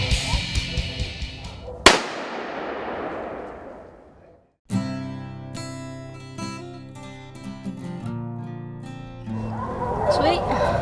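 A gunshot during a bear hunt cracks out sharply and close, its echo rolling away for a couple of seconds before outdoor sounds and voices resume.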